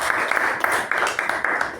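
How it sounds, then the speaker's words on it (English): A small audience claps, with a few distinct sharp claps over a soft, steady patter that holds evenly for a couple of seconds, fairly close. "Let's give him a huge round of applause"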